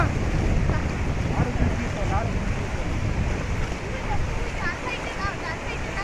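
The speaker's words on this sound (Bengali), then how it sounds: "রাস্তার ওপর দিয়ে ব্রহ্মাণী নদীর জল এইভাবে যাচ্ছে" Brahmani river water rushes across a road, a loud continuous roar of flowing water with wind buffeting the microphone outdoors.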